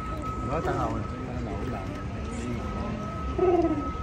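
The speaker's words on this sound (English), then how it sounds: "We have some birds above the boat" Birds coo and call in short bursts above a moving boat, over steady engine hum and nearby talk, with a brighter call near the end.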